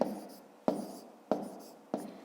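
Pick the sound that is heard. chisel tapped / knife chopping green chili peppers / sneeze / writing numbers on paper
writing numbers on paper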